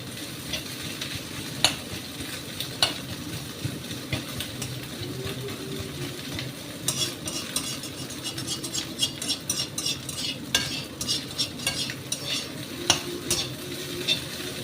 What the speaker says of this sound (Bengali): ডিম দিয়ে পেঁয়াজটাকে ভাজছি